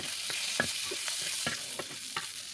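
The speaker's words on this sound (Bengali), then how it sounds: "কয়েকটা গোটা কাঁচা লঙ্কা একটু ভাজা করে নিচ্ছি" Garlic cloves and whole green chillies frying in a little oil on a flat pan, a steady close hiss broken by several sharp crackles and scraping stirs.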